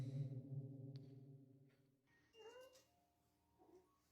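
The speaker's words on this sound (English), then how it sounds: "Oh, that was a cat." A cat gives a faint, distant meow, then a second, shorter cry a moment later, after a low humming drone at the start.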